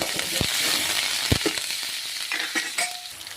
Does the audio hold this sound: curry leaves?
yes